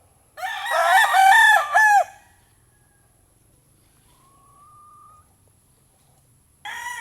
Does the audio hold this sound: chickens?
yes